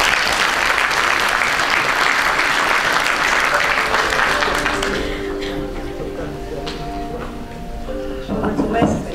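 Audience applause at a university graduation ceremony, a dense sustained wash of many hands clapping that fades after about five seconds as a voice begins speaking over the thinning claps.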